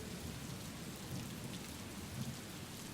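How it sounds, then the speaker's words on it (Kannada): Heavy rain pours in a dense, constant roar, a steady wash of hissing drops with low rumbling underneath. "ಮಹಾಮಳೆ ಸುರಿತಾ ಇದೆ"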